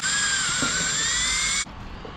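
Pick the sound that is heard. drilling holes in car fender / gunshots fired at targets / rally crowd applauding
drilling holes in car fender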